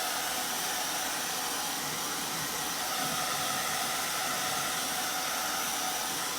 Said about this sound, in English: I'm just gonna hit it with the blow dryer for just a second.